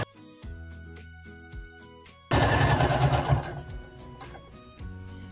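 A sewing machine runs a long basting seam at 1 centimetre on a bear dress skirt, with a rapid steady stitching rattle that starts abruptly and keeps going loud and close, then stops as the fabric is pulled away.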